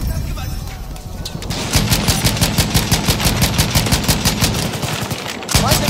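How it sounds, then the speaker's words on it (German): In the Battlefield 1 video game, an enemy machine gun fires a long, rapid, evenly spaced burst of loud shots, preceded by quieter battlefield noise and with a voice briefly heard. "Feindliches MG."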